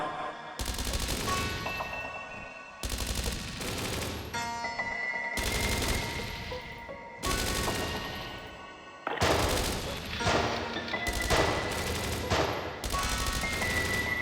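Sustained automatic gunfire rattles through an ambush in the PC game Dreams of Another, coming in long dense bursts separated by brief pauses, loud and close with no talking.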